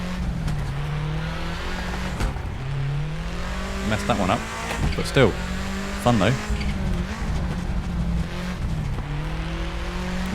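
A 1995 Subaru Impreza WRX STI engine drones and rises and falls through a handbrake turn in Assetto Corsa, with squealing tyres in the middle of the run and someone talking over it.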